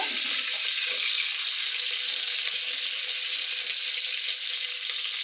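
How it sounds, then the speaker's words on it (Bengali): Chopped onion sizzles in hot oil in a home kitchen pan: a steady, bright, hissing fry that holds evenly at close range without pause, with no voices. "এই যে দেখো এখন আমি পেঁয়াজ কুচিটা দিয়ে দেবো"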